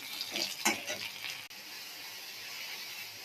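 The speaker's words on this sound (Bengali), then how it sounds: "কড়াইতে তেল দিয়ে দিই, একটু ভেজে নেব। দেখো কাঁকড়াটা ভাজা হয়ে গেছে।" A crab fries in hot oil in a wok, giving a bright sizzle with a short stirring scrape near the start, then a quieter steady hiss.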